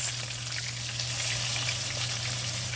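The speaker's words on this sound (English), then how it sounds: "You just want to sear very lightly on both sides." Lamb pieces for a stew sear lightly in a hot pan, giving a steady, close broadband sizzle that holds even for the whole stretch, with a faint low hum beneath.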